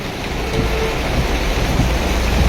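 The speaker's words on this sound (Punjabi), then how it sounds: "ਇਹ ਮੌਸਮ ਦੀ ਪਹਿਲੀ ਬਰਸਾਤ ਹੈ" The season's first rain pours down loudly and steadily in a town, with dense close hiss throughout and faint low traffic-like rumble beneath.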